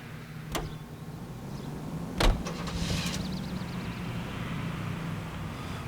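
Car driven in the video game L.A. Noire, a steady engine and road hum running throughout with a couple of sharp clunks near the start and a brief whooshing pass midway, no talking.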